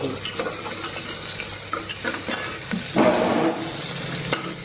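Onion frying in oil on a gas stove, a dense steady sizzle with occasional stirring clatters and a brief louder burst midway.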